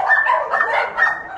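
An excited dog whimpers and yips in quick, high-pitched bursts, close and loud, in a short run of whiny cries with no talk.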